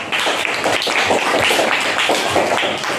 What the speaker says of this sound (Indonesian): Tepuk tangan untuk kalian dan tegak.